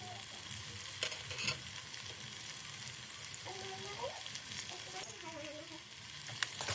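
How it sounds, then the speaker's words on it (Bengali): Crab masala being stir-fried in a pan with coriander leaves on a medium flame, a steady close sizzle with occasional scraping stirs and a few faint tonal sounds in the background. "এটাকে আমি এখন আস্তে আস্তে আর 1-2 মিনিটের মতো একটু কষিয়ে নেবো কাঁকড়ার সাথে"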